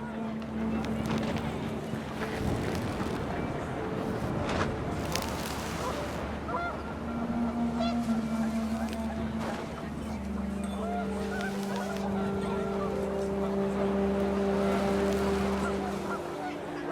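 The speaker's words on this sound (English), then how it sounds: "The wind picked up and panicked geese appeared and quickly went." Panicked geese honk repeatedly in a video game scene set outdoors on a windy day, with loud overlapping calls running throughout over steady background noise and some talk.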